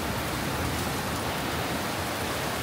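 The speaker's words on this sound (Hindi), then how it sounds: "पीछे आप देख सकते हैं हमारे पीछे कितनी धुआंधार बारिश हो रही है रोडों पे" Heavy rain pours steadily onto roads in a Kashmir valley, a dense, even hiss with no pauses, filling the whole space with no voices over it.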